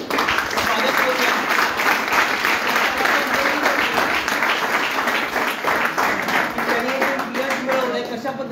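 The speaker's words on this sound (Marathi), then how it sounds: "तर आपण पुरुष त्याच्या टाळ्या वाजून" An audience gives sustained, dense applause to welcome a former student at a school alumni honours event, with clapping continuing evenly throughout.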